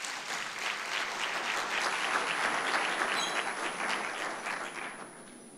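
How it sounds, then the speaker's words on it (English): Conference audience applauding steadily after an official opening speech at a regional policy conference, a dense, even clatter of many hands that holds for several seconds and then thins slightly at the end. "A round of applause again for Waziri."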